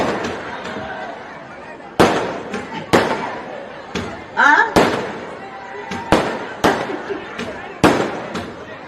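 Sharp firecracker bangs go off irregularly at an election campaign rally in Tamil Nadu, about ten loud cracks over several seconds, with a crowd chattering in the background.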